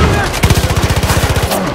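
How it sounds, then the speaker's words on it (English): Firecracker burst in Far Cry 5: a rapid string of sharp crackling pops going off in quick succession for about a second, loud and close, over game background noise. "Oh, that's a firecracker."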